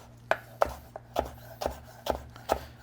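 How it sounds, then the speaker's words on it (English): A knife cuts across a tightly rolled log of fresh herbs on a board, seven crisp, evenly spaced chops with soft thuds, close and clear. "cut across it with my knife"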